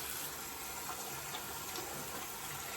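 Tap water runs steadily into a sink during rinsing, a continuous hissing splash at low level with no talk over it.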